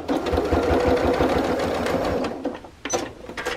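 A domestic sewing machine stitches rapidly as it tacks a fabric coin purse in place. It gives a steady, close mechanical whir that slows and stops, followed by a couple of short bursts and soft handling clicks.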